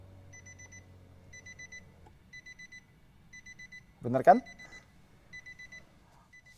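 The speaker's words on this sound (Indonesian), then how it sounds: "ini suara alarmnya tuh kayak suara waker zaman kita kecil dulu" Nissan Patrol 2022 with a 5.6-litre V8 gives a warning alarm after being switched off, repeated bursts of quick, faint chiming beeps like an old alarm clock, broken by a brief spoken remark.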